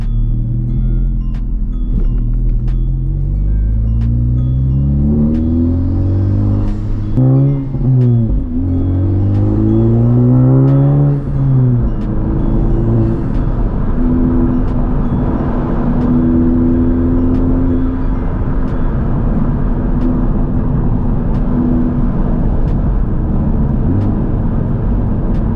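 A modified Honda FL5 Civic Type R drives and accelerates, its engine rumbling close and steady, revving up through several gear changes with rising and falling pitch, then settling into a constant cruising drone.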